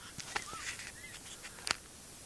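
Birds call outdoors while sharing a burger ring snack: a few short honking, squawking calls and sharp chirps over a quiet ambient background, with one louder cry near the end.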